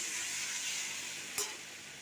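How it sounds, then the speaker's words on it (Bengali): Water splashes into a hot pan of fried prawns and kohlrabi, setting off a steady, bright hiss of sizzling with one brief louder burst partway through. "এবার জল ঢেলে দেবো অল্প করে"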